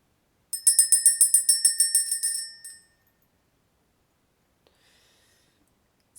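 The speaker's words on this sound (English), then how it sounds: "We're going to go ahead and ring the bell." A bell rung to clear the energy during a spiritual card reading, producing a rapid, bright series of about ten ringing strikes over two seconds, then fading into near silence.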